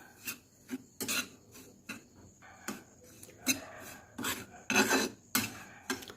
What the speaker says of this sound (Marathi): हा रवा मस्त फ्राय करून घेऊ आपण